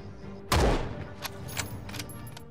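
A single sharp gunshot in the Jagged Alliance 3 video game, close and loud, followed by a few fainter thuds and clicks over a steady background.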